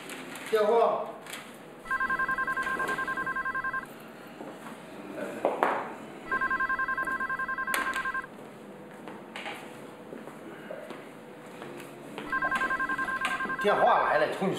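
An electronic telephone ringer trills in three separate bursts of about two seconds each, with people talking and other indoor noises heard between and around the rings.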